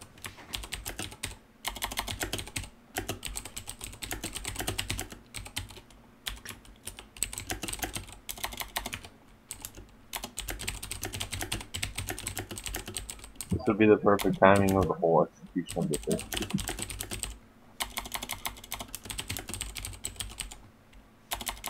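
Fast, continuous computer keyboard typing during an online game session, dense clicks running throughout with someone talking briefly in the middle.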